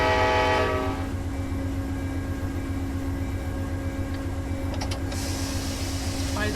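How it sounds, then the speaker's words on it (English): In the Run8 Train Simulator game, a train horn sounds loudly at the start and cuts off within a second, then a heavy diesel rumble with clanking continues alone. "Other trains honking at whistle posts."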